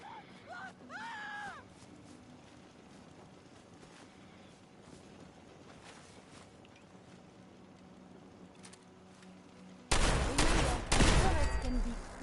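Automated turrets in the Fallout 4 video game open fire in a loud, rapid burst after a long stretch of quiet ambience, with a brief voice near the start.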